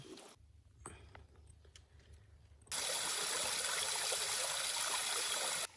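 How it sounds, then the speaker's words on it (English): Water from a stream below a forest waterfall runs faint at first with a few small knocks, then a loud, steady rushing roar cuts in abruptly and holds for about three seconds before stopping. "I am above the falls. It's actually right down there."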